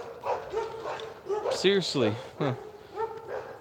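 Dogs bark and yip in a few sharp bursts near a live-streaming man's microphone, fairly close and loud, mixed in with his brief spoken remarks.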